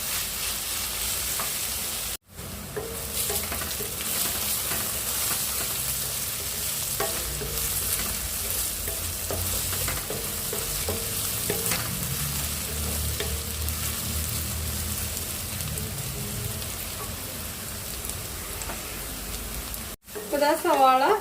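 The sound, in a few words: onions sautéing in oil in a pan for egg roast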